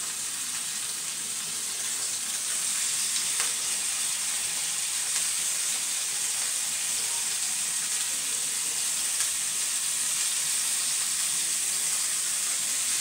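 Cod fillets sizzle and hiss steadily in a hot pan, a continuous crackling fry with no pauses.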